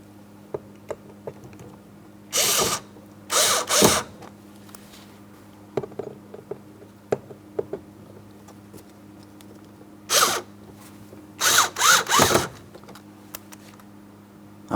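Phillips head screws being snugged into a 2003-2007 Cadillac CTS side mirror, short bursts of a screwdriver or drill whirring in separate runs between light clicks and handling taps, close and fairly quiet.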